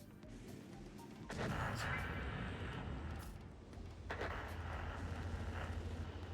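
Heavy tank cannon blasts boom in a video game, two big shots a few seconds apart, each with a sharp onset and long rumbling tail over constant engine-like background noise.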